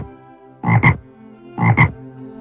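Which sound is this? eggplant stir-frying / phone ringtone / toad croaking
toad croaking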